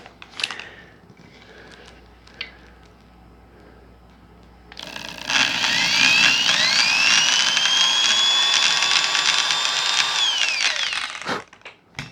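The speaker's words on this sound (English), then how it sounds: "Should use the bigger drill bit" A power drill whirs up and runs steadily for several seconds at high speed boring a hole in a guitar headstock for locking tuners, then winds down, after some quiet handling noises.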